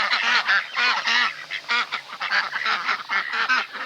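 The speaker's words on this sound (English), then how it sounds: "I think they're Indian running ducks actually, those ones at the back" Indian Runner ducks quack in a noisy chorus, repeated nasal calls overlapping in quick rhythm, fairly close with no voices.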